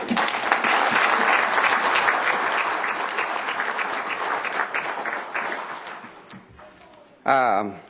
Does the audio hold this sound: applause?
yes